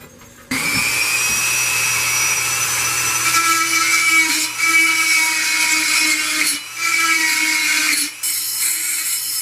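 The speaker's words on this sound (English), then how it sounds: "then I'll drill a second hole through there" Power drill boring a hole through steel on a metal sword build, a loud steady high-pitched whine with brief dips as pressure shifts, running alone without talk.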